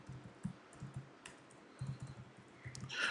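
Computer keyboard typing in short irregular clusters of soft clicks, close and quiet, with a brief louder rustle near the end and no talking.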